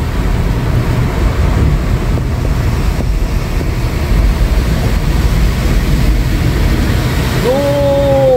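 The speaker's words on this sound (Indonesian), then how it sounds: "Jadi air itu mengalir kencang banget tuh" Fast floodwater rushes through a Jeddah street after heavy rain and strong wind, a steady, loud broadband roar with wind buffeting the microphone; a brief tonal horn-like sound rises near the end.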